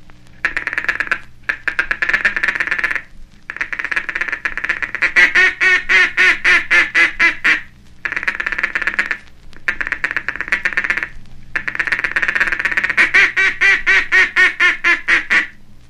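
A mallard duck call, blown with the tongue, imitates a hen mallard's feeding chatter as long runs of rapid, soft ticking clucks, broken by short pauses, close and steady with no talking.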